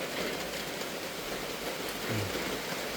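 Rain falls steadily in a rural forest setting, a dense, even hiss that stays constant throughout with no talk.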